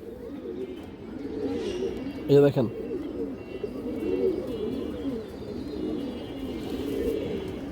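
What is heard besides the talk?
pigeons cooing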